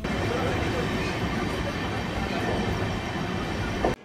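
The Bandhan Express passenger train on the Khulna–Kolkata route rumbles along with a steady, dense rattle of wheels and carriages, heard continuously from inside the moving train.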